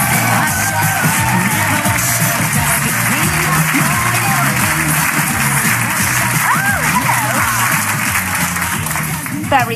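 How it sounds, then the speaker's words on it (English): A studio audience at a live daytime TV talk show claps politely: a steady patter of applause held at an even level throughout, with voices mixed in. "Very polite applause there."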